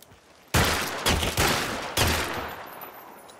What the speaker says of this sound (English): Is the Avtomat shooting at me again?